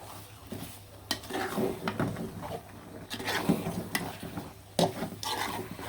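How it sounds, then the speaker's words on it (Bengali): Goat meat is stirred into spices in a cooking pot, with a spoon scraping and clanking against the metal in irregular strokes, some sharp knocks standing out over a soft background sizzle, close and fairly loud. "মাংসটা কিন্তু মশলার সাথে একদম সুন্দরভাবে পারফেক্টভাবে মিশিয়ে দিব"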